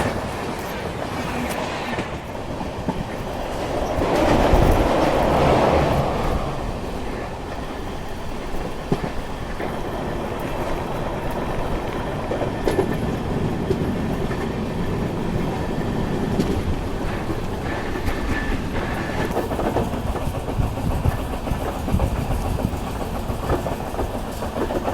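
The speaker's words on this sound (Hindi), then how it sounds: "और ये मेरे ख्याल से कोच्चिवली इंदौर क्रॉस हो रही है।" An express train running from Kochuveli to Indore crosses on a Kerala railway line near Kollam Junction: a steady, fairly loud rumble with rolling wagon noise that swells in the middle and persists throughout, with no talking.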